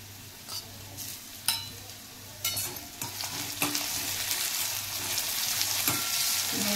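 Ginger garlic paste and tomato frying in a pan for a bottle gourd curry, a steady sizzle with scraping stirs and occasional sharp clinks of the spoon against the pan, building slightly louder over time.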